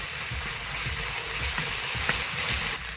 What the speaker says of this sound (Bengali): সবটাই দিয়ে দেব জিরে বাটা মশলাটা ভালো করে কষিয়ে নিব